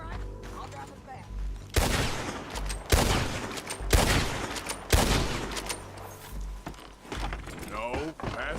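Gunshots in Red Dead Redemption 2, four loud, sharp shots fired about a second apart over rolling wagon and horse noise, with a distant voice calling out.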